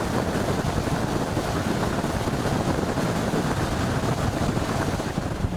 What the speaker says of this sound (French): Et quand Alain pousse ses 2 moteurs de 300 chevaux chacun, mieux vaut bien s'accrocher.